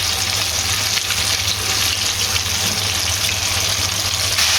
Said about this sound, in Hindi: अब एक एक करके विंग्स निकालते जाने हैं और ऑयल के अंदर डालते जाने हैं।